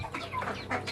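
A hen clucks in a short burst of close, soft, repeated notes from a young laying hen that seems sluggish and unwell.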